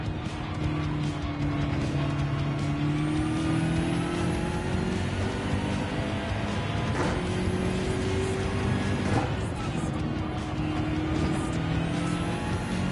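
A race car in Gran Turismo 7 drones steadily for the whole stretch, its engine note rising and falling through gear changes, with a couple of brief screeches and thumps along the way.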